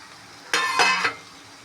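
A brief stirring sizzle of carrots, beans and potatoes frying in a pan with a spoonful of curd for seeraga samba veg biryani, a sharp scraping burst lasting about half a second before fading back to quiet.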